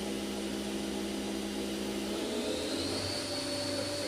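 The spindle of a 1999 Fadal VMC 2016L CNC milling machine, rated 7,500 RPM with a BT40 taper, whirs steadily, its whine climbing in pitch as it spins up to a higher speed, heard up close and alone.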